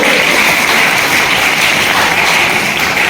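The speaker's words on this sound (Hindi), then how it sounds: "ताली बजाओ इसके लिए।" Students in a school classroom clap together in a dense, steady round of applause lasting a few seconds, with no talking.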